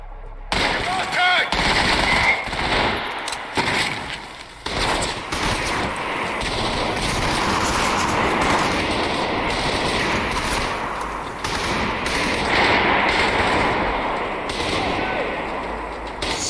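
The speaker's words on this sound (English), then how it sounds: "So they're still shooting the area where they think I am." Enemy gunfire in the video game Trepang 2: sustained loud machine-gun bursts and rapid shots, dense and continuous throughout with little pause.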